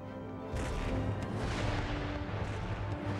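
Artillery fire in the strategy game Empire: Total War, a dense rolling roar of cannon blasts that surges in loudly after a brief quieter moment and continues as a sustained, booming barrage.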